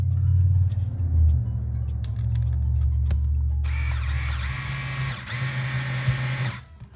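An electric screwdriver whirs in short, close bursts while driving screws into a plastic Tekno SCT410.3 short course RC truck kit, ending in a brief higher-pitched ratcheting spin.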